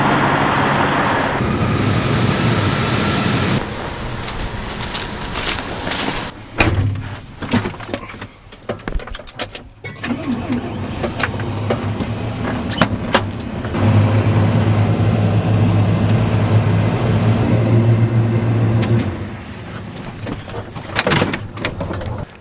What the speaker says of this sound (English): I'm gonna move the grain cart down to the field.